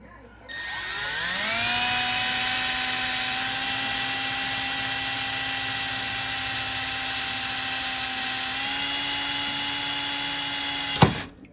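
A power drill bores into a wheelchair rear axle. It spins up, then holds one steady, loud whine for about ten seconds before cutting off with a sharp clack, with no talking.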